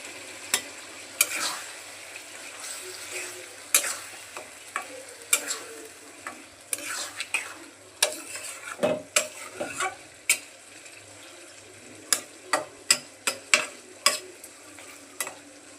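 Potatoes and meat frying in a pan with steady sizzling, while a utensil stirs and scrapes at irregular intervals, producing sharp clinks and scrapes that grow more frequent toward the end.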